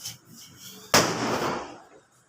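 A Diwali firecracker goes off with one sharp, loud bang followed by a crackling, hissing decay lasting about a second, after faint quieter background sounds.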